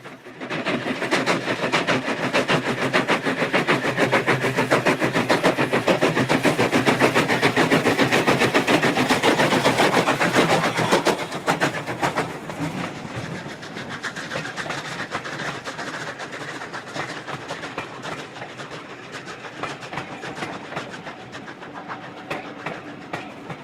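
Super D steam locomotive 49395 hauls a train uphill past miners' cottages and slag heaps, its loud rapid chuffing and clanking held steady for about ten seconds, then easing to a softer, more distant rumble.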